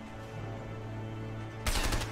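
Rapid gunfire in the video game A Way Out, a steady layer of shots under game ambience that jumps into a loud, dense burst near the end.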